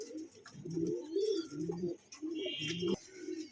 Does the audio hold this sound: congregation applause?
no